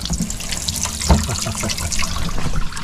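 Water poured into a frying pan after the food has been emptied out, a steady splashing stream with gurgles, close and continuous for a few seconds.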